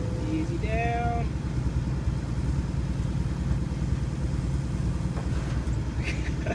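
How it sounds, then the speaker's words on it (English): An old truck rolls off in neutral near an excavator job, its engine giving a steady low rumble throughout, with a brief high whistle-like tone early on. "There goes my truck taking off since it's in neutral."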